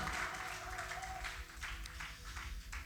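A church congregation applauds and cheers in praise, a dense, steady wash of clapping and crowd voices that stays loud and even throughout.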